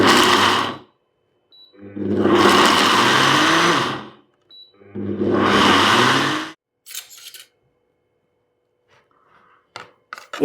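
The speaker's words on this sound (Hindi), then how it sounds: "इसी तरह से हम सारी चटनी पीसेंगे, और ये जो है कोर्सली ग्राइंड है" An electric mixer-grinder coarsely pulsing a chutney of chilli, coconut, garlic and sesame: three loud whirring bursts of a few seconds each with pauses between, followed by faint clatters and taps.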